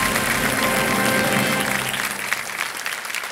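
A studio audience on the KBC India quiz show applauds after a correct answer, a dense sustained burst of clapping that stays loud at first and then eases off slightly toward the end.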